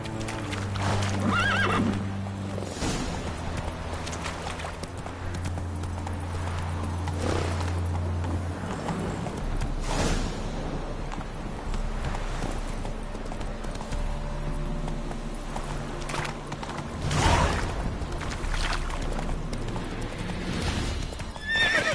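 A horse gallops in The Witcher 3 video game, with steady rhythmic hoofbeats, repeated neighs and whinnies, and a layered game soundscape underneath throughout.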